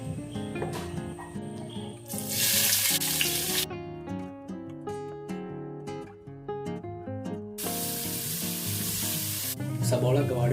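Onions sauté in a pan for kappa biryani, crackling and sizzling in bursts beneath prominent background music.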